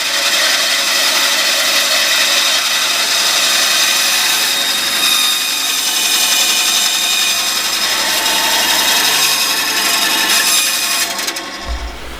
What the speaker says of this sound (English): So I'm just going to trim that down on the bandsaw.